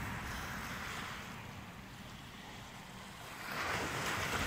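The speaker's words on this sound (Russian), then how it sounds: "Вам немножко послушать шум и волны." Waves on a fjord make a soft, continuous wash that swells slightly near the end. The sound stays faint and distant, with no voices over it.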